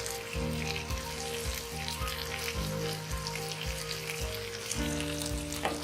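Tindora (ivy gourd) and potato sabzi sizzles steadily in a pan, with a continuous close frying hiss broken by regular stirring bursts, over a faint steady tonal hum.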